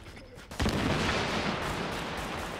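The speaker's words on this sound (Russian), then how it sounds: "Кидаю в него гранату." A grenade blast in Tom Clancy's The Division shooter game, a sudden loud boom followed by a sustained roar of explosion and gunfire that fills the rest of the moment, preceded by a brief quieter lead-in.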